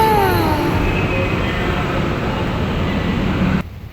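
Train at a Manila railway station, loud continuous rumble of rolling cars with a high metallic wheel squeal sliding in pitch early on, ending in a sudden cutoff.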